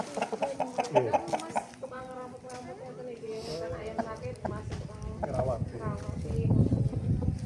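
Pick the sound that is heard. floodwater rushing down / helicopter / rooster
rooster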